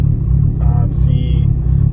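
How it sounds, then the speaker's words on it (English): A Mitsubishi Evo X tuned past 700 hp with Kelford 214C cams idles roughly with the air conditioning running, a steady low rumble with a few brief higher tones on top. "the car is idling"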